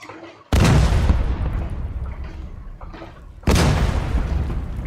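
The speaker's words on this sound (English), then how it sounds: "I've got some nice distant gunfire, and I've got 2 explosions" Distant gunfire and explosion sound effects: two sudden loud booming blasts with long rumbling decays, the second arriving about three seconds after the first.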